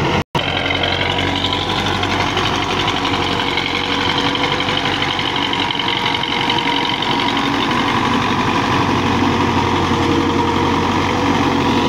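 An MTZ 50 Russian tractor works a 60-blade rotavator, its diesel engine running in a loud, steady, rough rumble that continues unbroken from start to finish with no talk.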